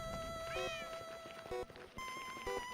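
A Minecraft cat meows several times in short high-pitched calls over quiet game background sounds and tones.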